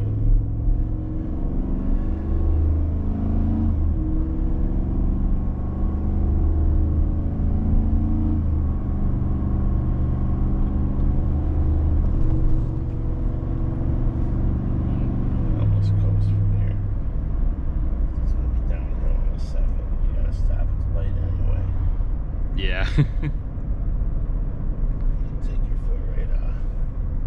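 A 2023 Ford F-150 with the 5.0 engine braking while towing a 7,000 lb travel trailer, a steady loud low drone of engine and road noise, with people talking over it.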